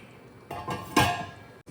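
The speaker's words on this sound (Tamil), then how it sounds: "இப்போ மூடி வச்சிடலாம்" A metal lid set down on a pot of simmering brinjal curry gives a short clatter and clink, near and brief, over a quiet kitchen background.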